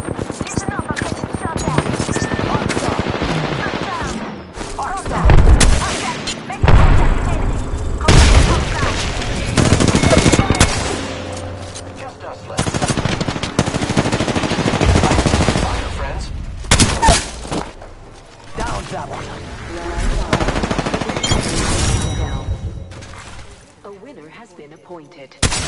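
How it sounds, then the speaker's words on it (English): Heavy gunfire from an Apex Legends firefight fills a long stretch with loud bursts and explosive booms, broken by short lulls, under ongoing game audio. "I am taking fire, friends."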